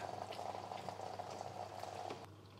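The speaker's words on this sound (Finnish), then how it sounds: "Tästä tulisi vaan ilmakuplia, eikä niinkään jäähdytysnestettä." Air bubbles gurgle through coolant while the cooling system of a BMW Z4 3.0si is bled. The faint, continuous bubbling churns for about two seconds, then quiets.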